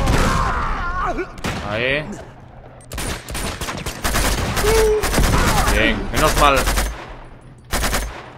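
Rapid bursts of gunfire in the action game Uncharted 2, with sharp repeated shots, stuttering automatic volleys and loud impacts, while someone talks and reacts over the fighting.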